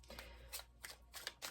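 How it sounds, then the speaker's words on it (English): Quick riffling bursts of a tarot card deck being shuffled, several short flurries close up and fairly quiet. "we're going to shuffle one more time"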